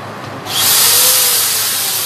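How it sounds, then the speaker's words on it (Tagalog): A power drill starts up on an IKEA SVENSÅS memo board, a brief quiet lead-in followed by a sudden loud, bright, hissing whir that holds steady close by for over a second. "So, magdi-drill na tayo. Ito na yung drill."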